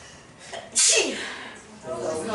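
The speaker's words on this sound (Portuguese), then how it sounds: "Vou espirrar." A single sharp, forceful sneeze bursts out close by, tailing off into a breathy exhale over faint background murmur.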